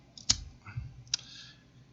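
A Jaws 2.0 V-Cut cutter straight-cutting a cigar, heard as two sharp, close clicks about a second apart with faint handling noise between, no talk.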